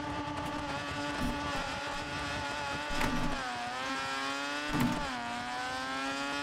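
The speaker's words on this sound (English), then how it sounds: "I can't hear my car over your car because both of our cars are loud" Loud, continuous engine drone with shifting harmonics from two cars revving together in BeamNG.drive during a touge mountain-road run, with brief surges where gears change.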